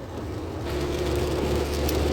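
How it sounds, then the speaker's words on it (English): Heavy rain pours down outdoors in a dense, continuous wash of patter that grows slightly louder after the first moment and stays steady, with no voices. "it is pouring down, raining out here"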